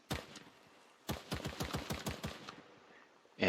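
Turret-mode gunfire from an Andrewsarchus in the game ARK, heard as a rapid burst of about a dozen sharp evenly spaced shots after a single opening shot, close and fairly loud, followed by a brief lull and another blast at the end.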